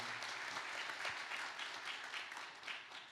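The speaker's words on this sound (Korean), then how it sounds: "박수 한번 보내드릴까요?" A congregation applauds at a 2022 Easter union worship service in a church in Andong, with steady, dense clapping that holds fairly even for about three seconds, moderately distant.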